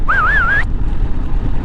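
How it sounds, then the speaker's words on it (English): A person whistles a short wavering tune for about half a second over a rumble of wind noise, then stops. "that was me whistling"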